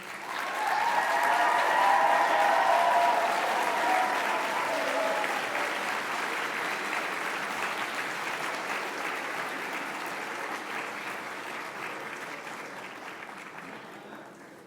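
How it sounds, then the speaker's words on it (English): A graduation audience rises and applauds at a hotel-school ceremony, sustained dense clapping swelling early then slowly thinning over about fifteen seconds, with faint voices underneath. "May you please rise and give a round of applause to those who have been supporting you."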